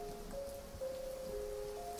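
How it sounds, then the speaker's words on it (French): Steady rain patters in a 360° horror film scene, a soft, even hiss under faint tonal music, with no voices over it. "Il pleut, ok."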